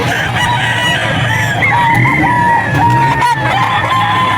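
Roosters at Bocaue pet market crow loudly and close, with several drawn-out calls overlapping amid clucking and a busy background din.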